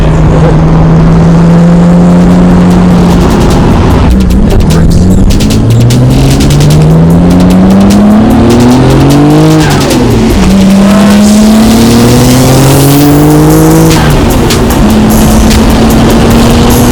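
A Nissan R32 engine roars very loudly from close range, its pitch climbing through the revs as the car accelerates, dropping briefly at gear changes and then rising again.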